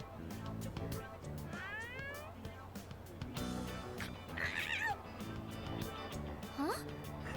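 A cat meows while eating in the video game Persona 3 Reload, giving a few short, rising and falling mews spread across several seconds over steady background game music.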